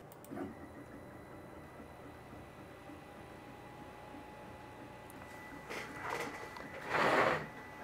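A laser engraver starts a job sent from Lightburn: a low mechanical hum runs steadily, then motor whirs and movement noises rise near the end, with one longer louder burst.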